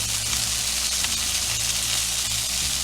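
Chicken tenders sizzle steadily in a hot pan, a loud constant crackling hiss with a low hum underneath.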